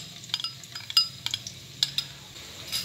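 Chopped garlic tipped into hot oil in a pan while making tandoori keema, with sharp spoon clinks against the metal over a faint, steady sizzle, close and fairly quiet.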